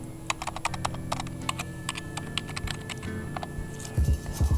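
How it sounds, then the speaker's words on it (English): Someone types a password on a computer keyboard, with rapid, irregular keystroke clicks close by over a low steady hum, followed by a few heavier thumps near the end. "She typed in the wrong password."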